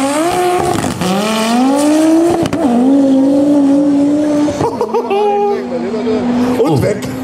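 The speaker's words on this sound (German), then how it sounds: "Stefan Porschinger mit seinem T5 Turbo" A T5 Turbo race car races at an airport circuit, its engine loud and close, rising and falling through gear changes with a brief tyre squeal, while a voice comments over it.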